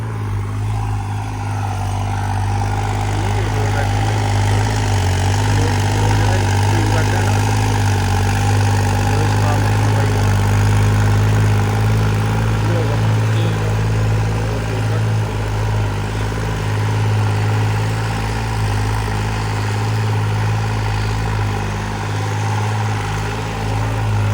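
A tractor engine idles low and steady throughout, a deep rumble with a constant droning hum and no pauses.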